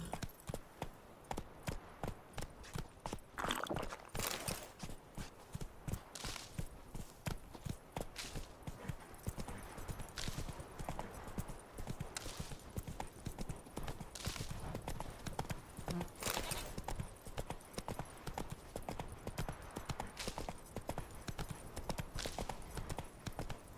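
Horse hooves clatter in a fast, rhythmic gallop throughout a long stretch in The Witcher 3, a steady near clip-clop with occasional louder thuds and brief pauses.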